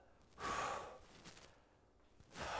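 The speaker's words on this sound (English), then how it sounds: "Breathing out as I press up." A person exhales through the mouth while pressing a resistance band, anchored in a door, upward in a slow, controlled shoulder press. Two breathy, close exhale bursts come near the start and at the end, with quieter breath between them.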